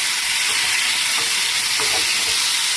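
Peanuts, cumin, two green chillies and chopped tomato fry in a pan with salt, a loud, steady sizzle filling the whole moment, with faint stirring underneath.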